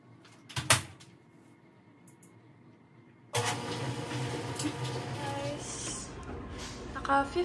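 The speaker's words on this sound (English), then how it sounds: "Yung mga damit ko is lalagay ko muna sa dryer." A household clothes dryer loaded with clothes: a sharp thud like a closing door, a short quiet pause, then the machine starts with a sudden, steady mechanical hum and rumble that keeps running.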